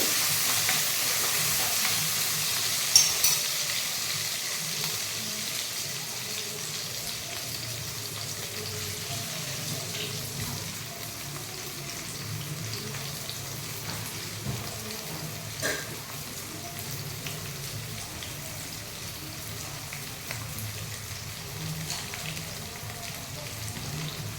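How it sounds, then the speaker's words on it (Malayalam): Onions and green chillies fry in hot oil after mustard seeds have popped, a soft steady sizzle with occasional stirring clicks and small spatters, close and fairly quiet, with no talking. "കടുക് പൊട്ടി ഇനി ഉള്ളിയും പച്ചമുളകും ഒരു മൂന്ന് പച്ചമുളകും ഒരു കയ്യിലൊരു പിടി ഉള്ളിയുമാണ് എടുത്തിരിക്കുന്നത്"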